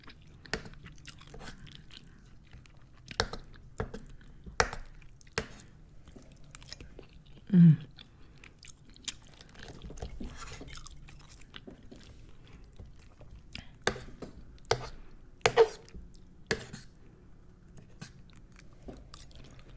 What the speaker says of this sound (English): My favorite part of the mac and cheese is the corners. The crunchy corners.